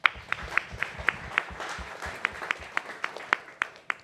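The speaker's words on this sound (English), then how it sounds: "Can we give him a round of applause?" An audience claps for a startup pitch presenter at an innovation forum. The sparse, moderately loud claps come at an uneven rhythm and build to a modest round of applause.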